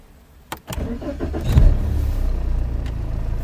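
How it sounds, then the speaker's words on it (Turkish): A BMW E60 520d diesel engine cranks and fires after a click, then settles into a rough, steady idle heard from inside the car with the windows down, loud and close, with no talking. "şu 520 dizel motorun bir sesini dinleyelim"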